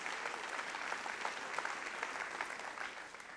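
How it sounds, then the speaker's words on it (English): A large conference audience of about a thousand people applauds at the opening of a morning session, dense sustained clapping heard from within the room, steady throughout. "Yeah, you can applaud."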